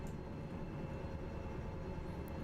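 A train hauling timber in the simulator game Derail Valley rolls along with a steady, continuous low rumble and mechanical drone, even in level throughout and with no voices over it.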